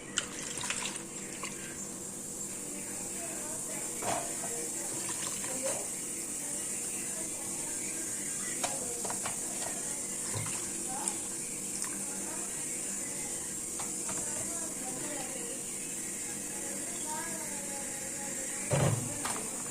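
Water drains steadily from radish that has been soaked in salt and chilli and dried, with a continuous trickling wash and a few soft knocks and clinks of a vessel throughout.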